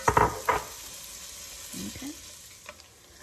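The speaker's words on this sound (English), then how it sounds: "And we'll brown it. We'll cook it till it's brown and starting to crisp up." Chopped bacon browns and crisps in a pot with a soft, close sizzle and a few stirring clatters near the start; one short word is spoken.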